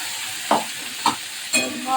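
Spice paste frying in oil while a spatula stirs it, with three distinct scraping strokes over a soft, steady sizzle, close and fairly loud.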